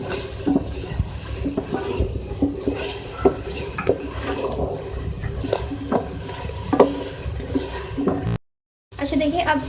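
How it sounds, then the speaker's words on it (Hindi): A spoon stirs ground fennel into spices in a pot for aloo tahari, making repeated scraping and tapping strokes over a soft sizzle, close and steady, with a brief dropout near the end. "इस तरीके से मिक्स कर लें मसाले में।"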